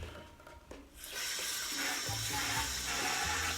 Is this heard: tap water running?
yes